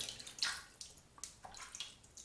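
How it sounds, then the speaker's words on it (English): Small splashes of water are worked into a shaving brush loaded with soap, giving a few soft, close wet squelches and trickles in quick irregular bursts, faint and with no talking. "A bit more water."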